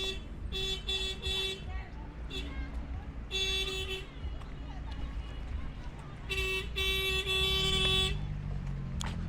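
Road traffic streams past on a busy street, with several short bursts of car horns honking against a constant rumble of passing vehicles, while people talk nearby.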